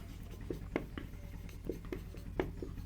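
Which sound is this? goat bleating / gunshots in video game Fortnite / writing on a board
writing on a board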